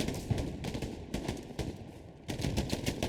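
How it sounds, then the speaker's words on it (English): Gunfire and grenade blasts in the Hell Let Loose World War II shooter, rapid bursts of automatic fire rattling in quick pulses, loud and close, with a brief lull before the shooting resumes. "Smokes, grenades, frags. It's all in the mix right now."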